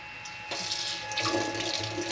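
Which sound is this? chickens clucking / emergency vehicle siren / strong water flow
strong water flow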